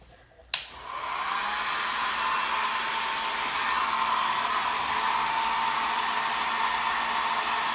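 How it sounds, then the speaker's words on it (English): After a click, a hair dryer whooshes on and blows steadily with a continuous airy roar that holds at an even level. "I'm going to just quickly try and get the blow dryer on."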